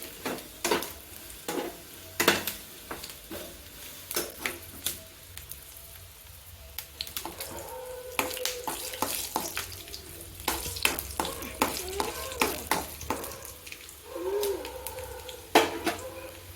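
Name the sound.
peanuts frying and stirred in hot oil for tempering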